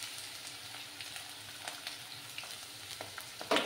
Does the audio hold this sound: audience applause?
no